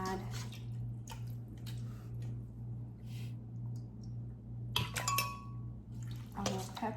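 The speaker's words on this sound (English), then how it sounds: "I am going to add some liquid at the bottom" Liquid poured into a blender holding whole red peppers, soft splashing and dripping bursts over a steady low kitchen hum, close and quiet, with a glassy clink near the end.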